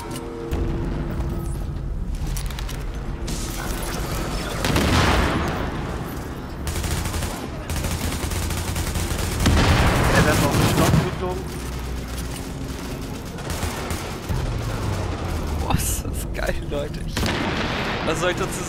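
Loud booming blasts and bursts of gunfire erupt repeatedly in the video game Tom Clancy's The Division, with a big explosion near the middle, while someone talks over the chaos.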